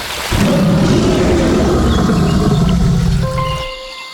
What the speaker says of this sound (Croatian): Kakav zvuk lav proizvodi?